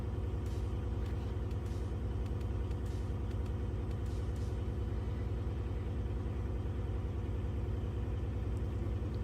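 Heavy truck engine held at a steady 1200 RPM during a Class 3 road-test inspection while the compressor builds air pressure, a constant loud low rumble with brief hissy air bursts near the start.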